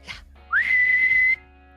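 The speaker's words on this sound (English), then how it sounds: "blow a whistle." One short, shrill whistle blast rises in pitch and then holds a steady piercing tone for under a second before cutting off, preceded by a faint breathy puff.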